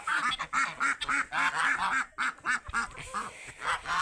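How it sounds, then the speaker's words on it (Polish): A flock of geese honk close by in quick, repeated nasal calls, overlapping and nearly continuous with a few short pauses. "Już wam gęsi"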